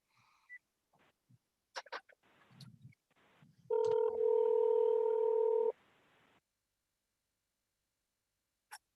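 A phone dials out during a city council meeting: a few short keypad beeps, then a steady loud ringback tone for about two seconds, with brief clicks and near silence after.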